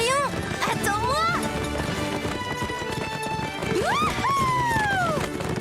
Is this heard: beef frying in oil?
no